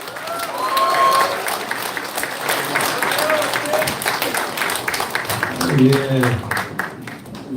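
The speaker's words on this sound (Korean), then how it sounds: "힘찬 박수로 맞이해주십시오" Audience at a political book-launch event in Incheon applauds, a sustained wave of clapping from a crowd, with a voice speaking over it through a loudspeaker and a brief cheer near the end.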